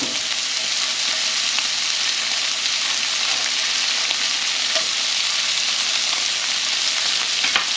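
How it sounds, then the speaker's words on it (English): Homemade bacon frying in melted fat in a pan, giving a steady, loud, crackling sizzle that continues without a break, close up, with small pops scattered through it. "We're going to throw our homemade bacon in there."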